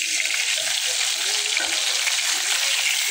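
Steady close sizzling of koi fish frying in oil in a pan, with occasional stirring and scraping noises over the continuous crackle, and no one speaking.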